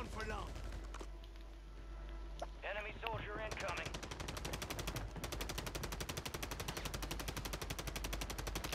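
Gunfire rattles through a Call of Duty Warzone Resurgence match, rapid repeated shots that grow into a steady, dense stream, with players talking over them in the first few seconds.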